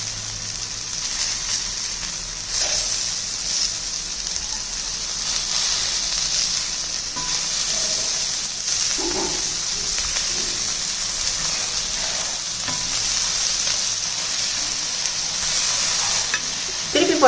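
Chicken cutlet frying in a pan after being flipped, a loud continuous sizzle close by with occasional faint scrapes and pops, no talk.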